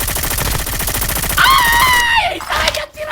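Rapid automatic gunfire rattles through an action video game, a dense, loud burst of repeated shots with a whining tonal effect partway through and a brief drop near the end; no talking.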